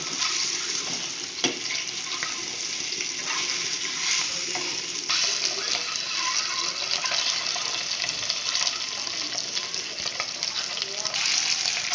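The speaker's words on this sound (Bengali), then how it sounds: "একটু ভেজে নেব" Frying in sunflower oil for an egg curry gives a steady crackling sizzle for the full length, close and fairly loud, with scattered stirring clatters and light kitchen knocks.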